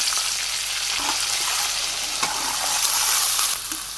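Vegetables fry in a pan for a thin vegetable khichuri with cumin and fenugreek in a Bangladeshi village kitchen, a steady close sizzle with occasional scraping stirs and no voices.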